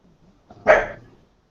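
A single short, loud dog bark rings out close by, with a faint soft sound just before it, in an otherwise quiet indoor room.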